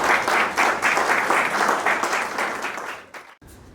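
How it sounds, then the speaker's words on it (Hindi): Loud, dense applause from an audience at a retirement function, sustained for about three seconds before fading out abruptly, with no talk over it. "एक बार जोरदार तालियां"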